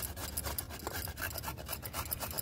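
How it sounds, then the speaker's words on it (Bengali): Raw papaya being grated by hand into fine shreds: a steady, close rasping scrape with repeated rubbing strokes running through the whole stretch. "বাইরে করে পেঁপেগুলোকে ভালো মতো করে জিরি জিরি করে নিচ্ছি"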